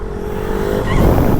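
A Bajaj Pulsar NS 160 motorcycle engine revving on the throttle, a loud close rising drone that swells toward the end.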